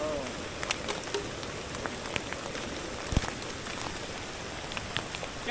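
Steady heavy monsoon rain patters on a surface in a Konkan village with scattered louder drops, a continuous wash of noise with no voices.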